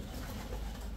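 A pair of older birds coos softly inside a low-cost breeder cage, a brief, low, murmuring call close by with no talking.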